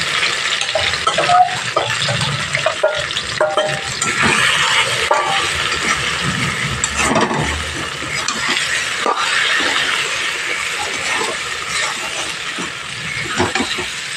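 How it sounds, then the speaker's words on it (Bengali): Mixed vegetables frying in a pan on a medium gas flame: a steady, close sizzling hiss with faint crackles and occasional clinks of a spatula throughout. "সবজিগুলো যে 5 মিনিট রেখেছিলাম এখানে এবার আমি দিয়ে দেবো। গ্যাসের ফ্লেমটা মিডিয়ামে রেখে ভেজে নিতে হবে।"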